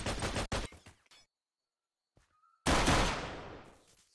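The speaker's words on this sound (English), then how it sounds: "Stop shooting me." A flying enemy fires at the player in modded Minecraft: rapid bursts of gunfire at the start, a short quiet gap, then a loud sustained volley that gradually trails off.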